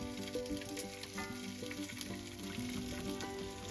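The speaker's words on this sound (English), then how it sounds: "I'll put them in there while the pan's got a good sizzle to it." Spam slices fry in a hot pan, giving a steady close sizzle with crackling spits, heard alone without talk, though tonal hum and harmonic lines run through it.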